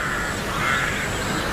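Crows and rooks on the North Yorkshire Moors caw in a steady, dense chorus, moderately loud and continuous, with no talking.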